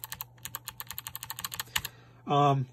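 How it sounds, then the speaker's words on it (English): Logitech G815 low-profile mechanical keyboard with GL Clicky switches, about fifteen sharp close clicks typed in a quick uneven run, followed by a brief spoken word at the end. "this one here, which is the GL Clicky. Nice clicky sound on that."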